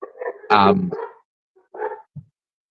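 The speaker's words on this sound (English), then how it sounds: "My dogs are letting me know that somebody's apparently here." Pet dogs bark indoors at someone arriving at the house, a loud burst of barks followed by a couple of shorter yips and woofs with quiet gaps between.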